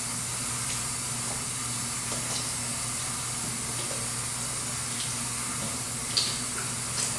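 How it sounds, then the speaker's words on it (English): Hands being washed under a running kitchen tap: a steady, close hiss of flowing water with faint splashes, continuous throughout, no talking. "Let me wash my hands real quick."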